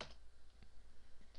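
Scattered soft keystrokes on a computer keyboard, a few quiet isolated clicks against a low room hiss with no talking.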